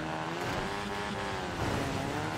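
A steady engine drone with shifting revs from a tractor driving in Forza Horizon 4, continuous and fairly loud with no talking.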